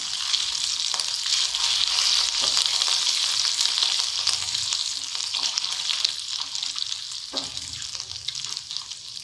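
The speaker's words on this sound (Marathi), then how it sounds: "हळद, तिखट टाकून मिक्स करून घेऊ।" Turmeric and chili powder stirred into sizzling oil with garlic and cumin paste in a frying pan for tomato chutney, a steady close hiss with occasional spoon scrapes and no talking.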